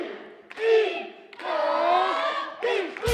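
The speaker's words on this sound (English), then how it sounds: "The award-winning cheer team belting it out at the break." An award-winning cheer team shouts loud, drawn-out chants in three bursts during halftime of a basketball game, their voices ringing through an indoor gym.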